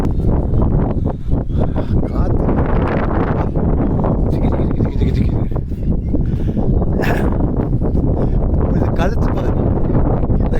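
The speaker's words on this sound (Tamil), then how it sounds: "காற்று சரியான காற்று" Strong wind buffets the microphone in a constant loud roar, with a person's voice partly audible beneath the gusts.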